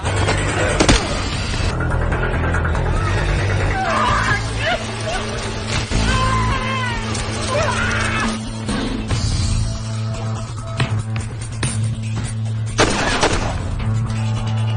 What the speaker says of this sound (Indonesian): terjadilah adegan baku tembak yang cukup menegangkan.